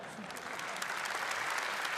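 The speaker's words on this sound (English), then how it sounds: "let's give him a huge round of applause" Applause from the crowd at a Gran Turismo World Series esports grand final rises steadily as a dense wash of clapping, with no distinct voices standing out.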